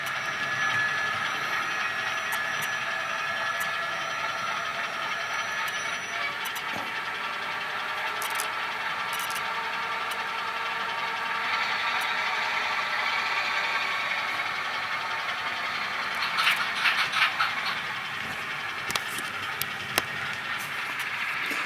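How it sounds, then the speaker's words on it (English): A Rapido RS-11 model locomotive running in reverse on a model railway produces a steady, close whirring and rolling hum throughout, with a few light clicks near the end. "reverse the direction of the engine, physically turn it around, and try running it backwards to see if that does anything"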